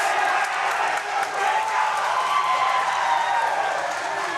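A crowd cheering and clapping for a jiu-jitsu match at a grappling event, a steady roar of voices that holds for the whole stretch.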